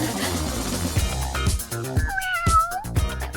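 A cat meows several times in a short series of bright, rising and falling calls, close and clear, with faint background sound and no talking.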